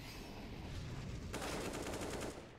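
AK rifle fire in a CS:GO aim duel on the Cache map, heard as a rapid automatic burst of crisp shots in the second half, faint and distant, with no talk over it.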